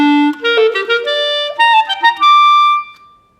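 A clarinet plays a rising line of held, connected quarter notes rather than clipped staccato ones, each note sustained and clear, loud and close, with no other sound.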